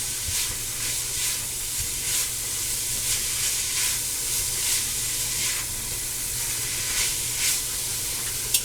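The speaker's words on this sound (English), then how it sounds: "Add our garlic." Garlic sizzling in a hot pan with ground pork for Cuban sloppy joes, a continuous bright frying hiss with small pulses of crackle, close and steady throughout with no talking.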